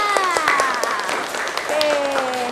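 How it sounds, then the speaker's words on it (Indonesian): Students in a classroom clap for a classmate after a biology lesson answer. The clapping is moderate and scattered under talking voices, and a steady tonal hum persists behind it. "Tepuk tangan untuk temannya"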